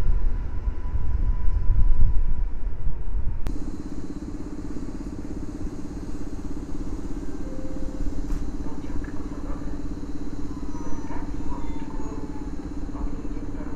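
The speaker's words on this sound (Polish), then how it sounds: "Pociąg wjeżdża na tor" A passenger train pulls into a track at Warszawa Wschodnia station, a loud low rumble that shifts into a steady metallic hum with wheel squeals and clanks, station ambience around it.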